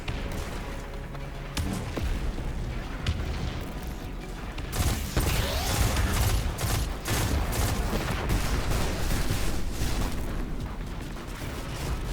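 A grenade explosion in Destiny 2, a heavy blast rising out of continuous combat noise with bursts of weapon fire and rumbling impacts that carry on after it.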